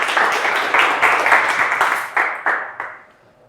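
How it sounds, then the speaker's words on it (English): A small audience at a discussion of a film on waste and recycling claps for several seconds, distinct individual claps audible within the patter, which thins out and fades to a few last claps. "You can clap."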